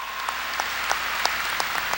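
A congregation at a 1992 Sunday church service claps briefly, a scattered run of sharp, fairly distinct hand claps sounding moderately close over a quiet background.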